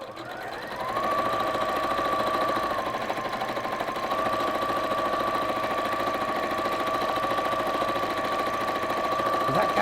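A sewing machine runs steadily for several seconds, stitching fabric with a fast, continuous mechanical whir and a faint high hum, close and fairly loud.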